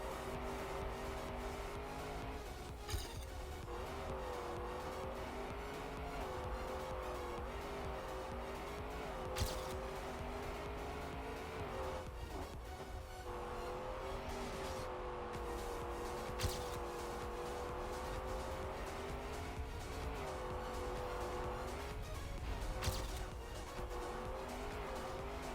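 Video game race car driving on a Burnout Boulevard endurance map, engine whining through repeated gear-rising sweeps with intermittent tire squeals and skids, continuous and close throughout.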